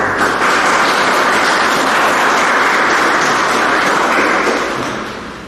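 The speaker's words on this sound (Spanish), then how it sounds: "vamos a brindarle un fuerte aplauso" An audience at an ecological history lecture in the Casa de la Municipalidad del Cusco breaks into loud, sustained applause, dense and continuous clapping that holds steady before tapering off at the end.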